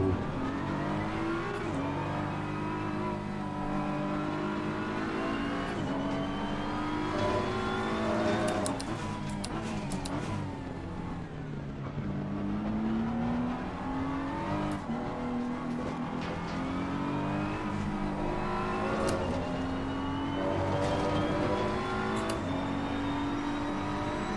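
Racing car engines in an Xbox Series X racing game roar continuously, revving up and down through gear changes with occasional tire squeal, loud and steady throughout.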